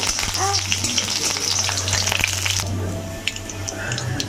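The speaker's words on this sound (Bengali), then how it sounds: "রসুনটাকে ভালো করে ভেজে নেব।" Crushed garlic sizzling in hot oil, a steady crackling hiss up close that thins out partway through, with a few light clicks.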